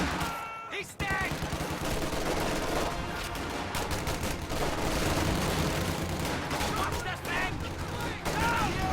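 Bursts of rifle and machine-gun fire crackle through a World War II-style video game battle, with rifle grenades popping amid dense, overlapping shots and a commentator's voice running over the action.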